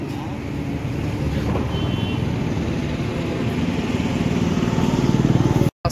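A motorbike rides along on a road, its engine running as a steady close drone with wind noise for most of the stretch, cutting out briefly near the end.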